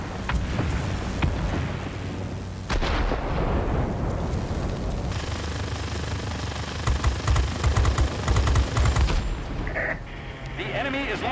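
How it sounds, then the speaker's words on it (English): Enemy rockets launched from a military base in a video game: a continuous barrage of heavy blasts, booming rumble and rapid fire, loud and dense throughout, with brief shifts in intensity and a voice occasionally present. "The enemy is launching rockets at us from the military base."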